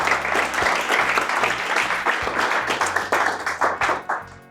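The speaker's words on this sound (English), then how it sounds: "Please give him a really warm round of applause." An audience at an evening agile meetup gives a warm round of applause for an arriving speaker, a dense close burst of many clapping hands that thins toward scattered final claps.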